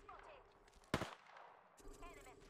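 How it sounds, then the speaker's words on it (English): In an Apex Legends match, one sharp, loud gunshot cracks out, with fainter gunfire and game sounds around it, while people talk quietly underneath. "He's shooting at someone else."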